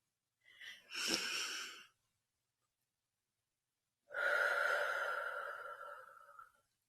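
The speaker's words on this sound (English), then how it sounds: "Let's do 3 deep cleansing breaths together right now." Two long, deep breaths taken during a guided relaxation exercise, each a loud airy rush lasting over a second, the first a slightly wheezy inhale and the second a longer, steadier exhale after a short silence.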